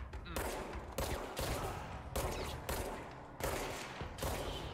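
The energy gun firing in the video game Control: about six loud, separated bursts of harsh, crackling discharge that come in a steady rhythm, each followed by a brief pause.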